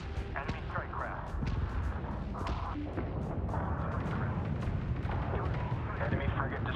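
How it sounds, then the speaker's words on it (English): An enemy frigate is destroyed in space combat in Homeworld 3, with heavy rumbling blasts and repeated booming impacts under radio chatter and continuous battle noise. "Enemy frigate destroyed. Say again, frigate destroyed."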